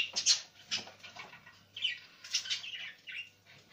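Pet birds, parrots among them, feeding on homemade food in an aviary, with repeated soft wing flaps and faint chirps over a low hum, close and moderately loud in short bursts.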